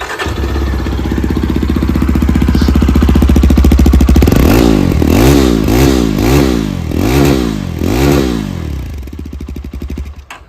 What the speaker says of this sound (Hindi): तो यज़दी एडवेंचर का साउंड मैंने आपको सुनवाया